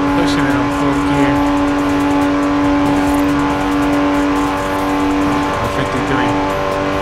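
An old-school car in the Forza Horizon 4 racing game, driven with a steering wheel, holds a steady, loud engine drone in fourth gear at high speed, with sustained tonal engine harmonics throughout.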